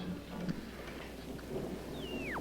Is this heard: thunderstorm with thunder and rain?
yes